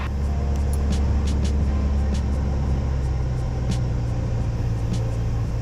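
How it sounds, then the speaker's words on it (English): Inside the cabin of a light aircraft, the engine drones at a steady, loud, low pitch as the throttle is pulled back for descent, with faint periodic ticks and no speech. "Just me pulling the throttle back so that we can descend."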